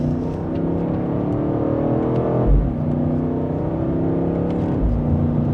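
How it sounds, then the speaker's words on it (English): BMW M8 Coupe in Sport Plus accelerating hard from inside the cabin, steady loud engine drone with two quick upshifts marked by brief dips and thumps, no talk. "in that quickest shifting setting, we are up to speed, very smooth in the shifts"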